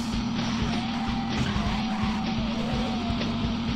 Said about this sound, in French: vous pouvez remarquer aussi que le bruit du moteur a changé